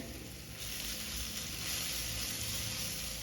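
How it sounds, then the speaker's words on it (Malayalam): Ground coriander, turmeric, chili and garam masala powders sauté in a pan for a side dish, making a close, steady sizzle with faint stirring scrapes throughout. "പൊടിയൊക്കെ ഒന്ന് നന്നായിട്ടൊന്ന് വഴറ്റട്ടെ"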